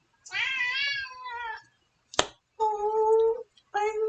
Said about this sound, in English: I love cats.